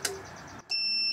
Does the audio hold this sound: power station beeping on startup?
yes